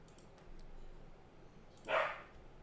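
A single sharp dog bark rings out once, fairly faint and distant, against a quiet background.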